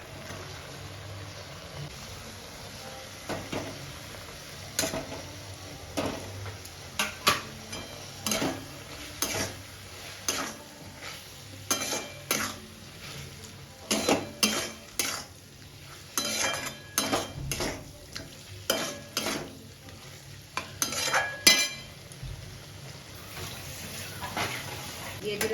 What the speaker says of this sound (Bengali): দিয়ে দিচ্ছি এই মাছ ভাজাগুলো